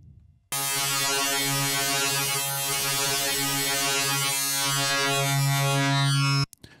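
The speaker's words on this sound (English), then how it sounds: "phase mod will give you a much brighter, harsher sound than frequency modulation" An Access Virus TI synthesizer plays a phase-modulated patch with a sine-wave operator: one steady, loud, bright and buzzy sustained tone holding for about six seconds, then cutting off abruptly.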